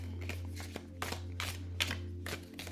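Crisp riffling bursts of an oracle card deck being shuffled, several quick rustling flurries in a row, close up over a steady low hum.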